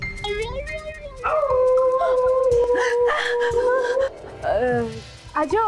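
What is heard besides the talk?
dog barking and howling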